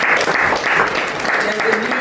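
Audience applause at a talk, a short burst of clapping from a crowd with voices mixed in.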